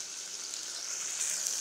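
Tomato and onion sauté in a pan for sambar, giving a soft, steady sizzle that holds evenly and swells slightly near the end, with no voices.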